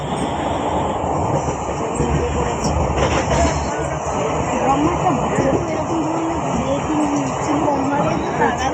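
A crowded passenger train rumbles along with a steady, loud roar, while passengers chatter beneath it.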